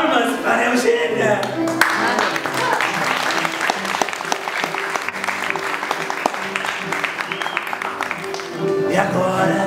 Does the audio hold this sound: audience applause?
yes